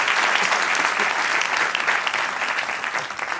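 A church congregation claps loudly and continuously, a thick wash of many hands close by with slight swells, no voices standing out.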